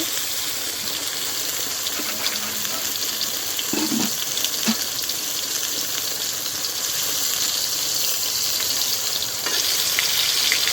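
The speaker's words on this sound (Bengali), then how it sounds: "ভাজা শুরু করলাম, অনেকটা সময় লেগে যাবে। বেগুন ভাজা দিয়ে ভাত কিন্তু সেই মজা" Eggplant slices frying in a pan, a steady bright sizzle of hot oil throughout, with a few faint clinks and bumps of utensils partway through.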